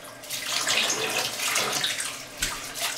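Warm water runs steadily from a tap in a sink while hair weave extensions are rinsed, a close, continuous hiss and splash lasting throughout with a brief thump near the end.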